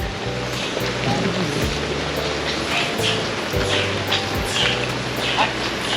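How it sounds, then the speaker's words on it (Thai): Steady rain hisses over a wide outdoor hilltop space at Khao Phra Khru, Si Racha, with low rumbling and faint splashing underneath. "ฝนก็ไม่หยุดนะ"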